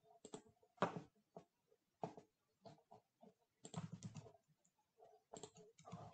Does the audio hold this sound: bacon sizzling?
no